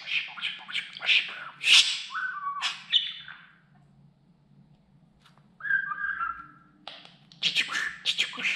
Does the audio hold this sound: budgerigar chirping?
yes